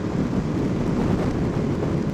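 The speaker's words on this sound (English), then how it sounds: "The wind gust at 130 kilometers an hour is ridiculous." Continuous wind buffeting roars over a rider's helmet on a Ducati Multistrada 1200 at about 130 km/h in stormy gusts, a constant heavy rumble without speech.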